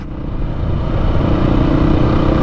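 A Beta motorcycle engine runs loud and close in a steady, even drone that rises slightly in strength, with no voices over it.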